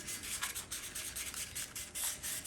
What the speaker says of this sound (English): light, moderate pressure sanding until I knock down all the rough spots